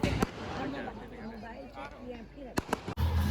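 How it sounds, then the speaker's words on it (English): Sky shot fireworks and firecrackers bursting at a school farewell day celebration, sharp loud cracks and bangs near the end over a continuous crowd murmur with voices talking throughout. "So I guess you have heard the sound, the sky shots and crackers."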